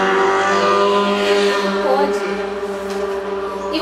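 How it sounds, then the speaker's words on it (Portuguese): Loud motorcycle engines rumble and rev outside a house, dense harmonic droning with shifting pitch as the bikes pass close by, filling the whole stretch without pause. "Hoje é o dia das motos barulhentas"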